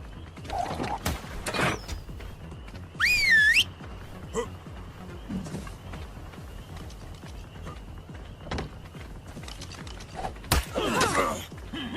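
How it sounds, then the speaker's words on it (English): A rising and falling whistle sounds once in ARK Survival Evolved as a player signals a tamed dillo to attack, heard over creaks, clattering mechanisms and other game noise. "notice how I whistle the dillo to attack the other guy"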